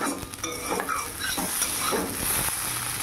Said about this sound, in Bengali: আর শাশুড়ি মায়ের জন্য করছি আলু ভাজা, তো ওনার জন্য আলু ভাজা করছি